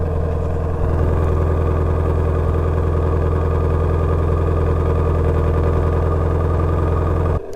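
A salvage car engine idles steadily at close range, a continuous low drone with even harmonics that runs unchanged for several seconds and cuts off at the very end.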